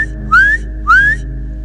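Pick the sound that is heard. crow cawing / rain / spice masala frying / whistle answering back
whistle answering back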